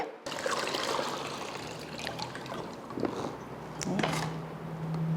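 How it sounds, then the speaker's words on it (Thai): Clear limewater being poured off soaked mango pieces in a home kitchen, a steady trickling stream that swells and eases over several seconds, close by and fairly soft, with a brief voice partway through. "ทีนี้เราจะเทน้ำปูนใสออกนะคะ เทแบบเดิมเลย"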